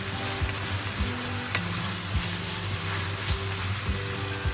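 Chicken sizzles over high heat in a pan for Chilman-style chicken biryani, with chopped ginger added; a steady, close frying hiss is broken by regular scraping stir strokes about once a second.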